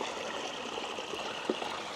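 Water from a small waterfall trickles and drops down through a hole in the earth on a hot bush hike. It makes a steady, faint stream-like wash with one brief splash.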